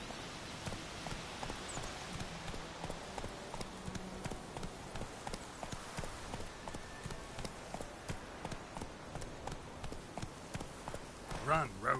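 The horse Roach gallops in The Witcher 3, steady hoofbeats thudding under a dense, rain-like game ambience, with a couple of louder hits near the end.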